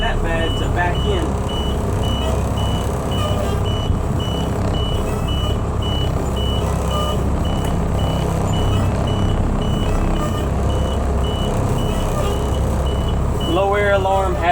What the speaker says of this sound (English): Low air alarm, have no fear.